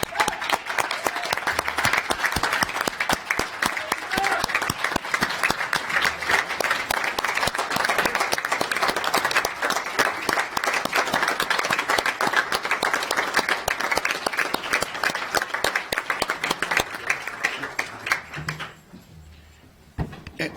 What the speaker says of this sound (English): Could we have one last round of applause, please, for the general?